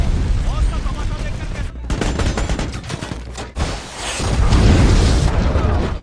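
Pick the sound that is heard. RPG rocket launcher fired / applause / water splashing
RPG rocket launcher fired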